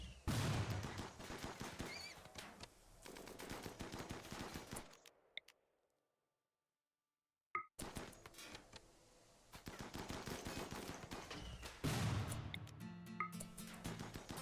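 Dense, loud bursts of automatic gunfire from colonists fighting in RimWorld, rattling continuously for several seconds, breaking off into a brief silence, then resuming just as intensely to the end.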